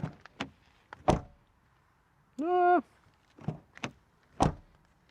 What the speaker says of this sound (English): Rear door closing sound, maybe not the best.